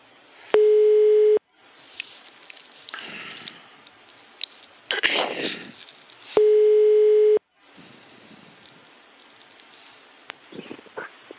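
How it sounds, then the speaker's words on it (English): Telephone line tones follow a dialed call, two steady electronic beeps about a second long, separated by several seconds of rustling and handling noise on a quiet line. "I found the phone number of Jenny Engström, their communications manager, and dialed it to find out what was going on"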